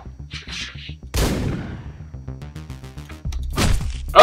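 Shotgun blasts in the top-down shooter Hotline Miami, several sharp booming shots over pulsing synth game music, with a dense burst near the end.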